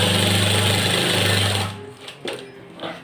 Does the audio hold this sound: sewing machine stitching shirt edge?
yes